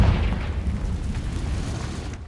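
A Confringo spell explosion in a cave maze in Hogwarts Legacy, heard as a close, heavy boom that rolls into a sustained low rumble.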